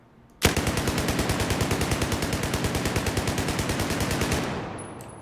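A U-100 MK5 machine gun in Battlefield 4 fires one sustained burst of about four seconds, a loud, rapid, evenly spaced stream of shots that cuts off abruptly and leaves a short fading tail.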